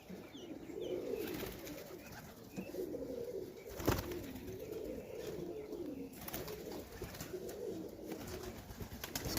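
Highflyer pigeons coo softly in a loft, with repeated low, rolling coos in a steady rhythm over quiet background hiss and one brief knock.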